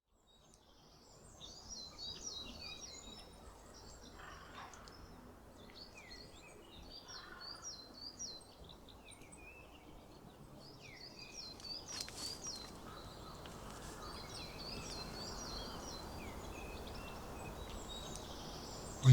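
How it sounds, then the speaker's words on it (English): Several birds chirp and sing outdoors in short repeated phrases, clear but fairly distant, over a steady hiss of ambient background noise that grows louder toward the end. "listen to some birds"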